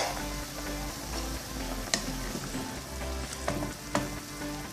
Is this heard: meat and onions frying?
yes